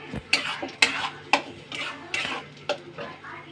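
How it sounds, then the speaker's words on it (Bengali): Spice paste going into hot oil for chhanar kofta curry, stirred with a utensil: a handful of sharp scraping clinks over a soft sizzle, close and fairly loud. "এই পেস্টটা আমি এবার তেলের ওপর দিয়ে দেবো।"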